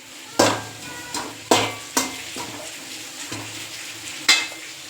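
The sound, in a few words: dry-roasting masala spices in a pan without oil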